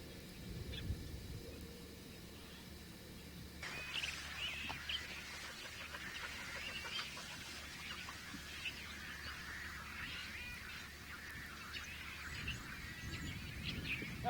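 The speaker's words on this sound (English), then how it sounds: "Got a big flock of red-winged blackbirds over here." A big flock of red-winged blackbirds calls in a western stream-gully landscape, a dense, continuous chatter of overlapping chirps that starts after a few quiet seconds and carries on at moderate distance, with no talk.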